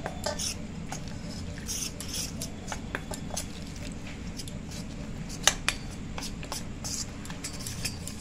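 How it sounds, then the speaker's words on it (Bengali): Salt, water and curry leaves are mixed into a thin batter in a bowl, a spoon clinking and tapping against the bowl in an irregular rhythm over a low background hum. "এরপরে জল দিয়ে আমি একটা ঘোলের মতো তৈরি করে নিচ্ছি।"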